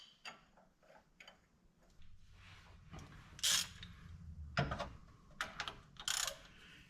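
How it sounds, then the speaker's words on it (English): Old engine that had sat for twenty years, its crankshaft turned over by hand with a wrench on the 15/16 crank bolt and the spark plugs out: quiet, irregular mechanical clicks and ratcheting ticks with a few louder scraping bursts. "So now we'll turn it over by hand."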